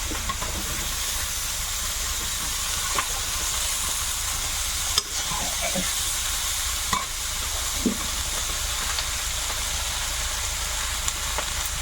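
Cabbage sizzles in a pan seasoned with salt and turmeric, a steady close frying hiss broken by occasional scraping and stirring clicks, with no talking.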